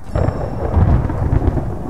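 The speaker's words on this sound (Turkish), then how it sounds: "Soğuk, yağmurlu bir gecede yağmur damlaları ahşap pencerenin kenarında tıkırdarken" Heavy thunder rumbles low and loud through a steady rain on a cold, rainy night, with drops pattering against the edge of a wooden window; the rolling boom swells in the middle and the rain hiss continues throughout.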